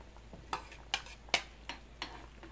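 A spoon scrapes and clinks in a pot of rice porridge with beaten egg, five or six separate sharp strokes spaced about half a second apart, quiet and close with no talk.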